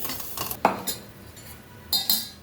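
A spoon mixing curd and roasted urad dal in a bowl, producing a few sharp clinks and scrapes against the bowl at an irregular pace, close and quiet, with no talking.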